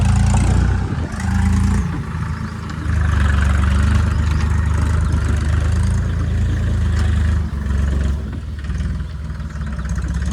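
A small tractor's engine runs steadily nearby, a low throbbing idle that rises and dips slightly at moments, heard alone without talk.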